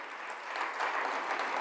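An audience applauds at a Women's Day event in Sambhajinagar, with steady, dense clapping that swells slightly and holds for the whole stretch, without voices.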